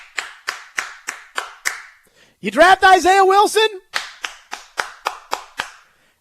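Crowd clapping at NFL draft picks: sparse, sharp claps repeat in an even rhythm, with a few seconds of talk in the middle.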